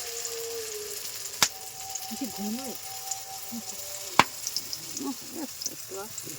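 Patishapta pitha batter sizzles steadily in a hot kadai in a rural kitchen, a soft continuous hiss with a couple of sharp clicks, under faint background voices.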